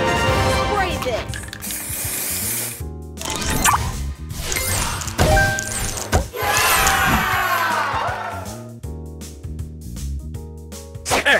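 The spray booster fires in the Match Masters match-three game, making hissing spray and crashing effects with cheering crowd sounds and announcer-style game voices over busy background music.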